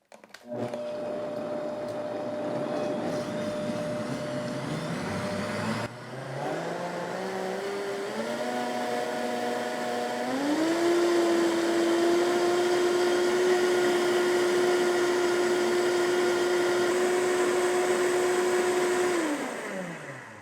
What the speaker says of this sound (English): I'm going to slowly increase it to full power and then just let it run.